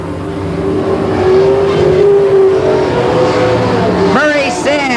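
Race cars roar around the Willamette Speedway oval, a loud continuous engine drone with rising and falling pitch as cars pass, and a sharp revving burst near the end.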